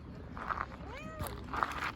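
A lost, sick stray cat found on the street gives a rising and falling meow with a soft continuous purr beneath, close up, while a person speaks nearby.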